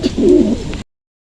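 Racing pigeons coo at a loft during a club training release, a single close, low throaty coo lasting under a second that breaks off abruptly.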